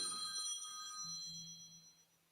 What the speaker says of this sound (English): That's a big fine for me if y'all heard my phone ring.